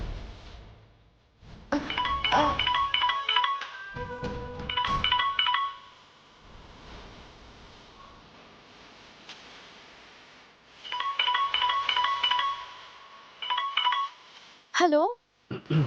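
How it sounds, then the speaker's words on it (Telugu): A phone being dialed to place a call: two bursts of rapid keypad tone beeps, each followed by a pause, close and clear, with a faint clink and a short ringing sound at the end. "ఒక కాల్ చేసుకొని ఇస్తాను"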